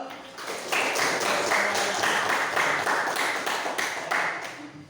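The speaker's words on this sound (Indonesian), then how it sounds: "baik tepuk tangan dulu" A classroom of students applauding together, a dense steady patter of many hands clapping at moderate loudness that rises quickly and holds before trailing off.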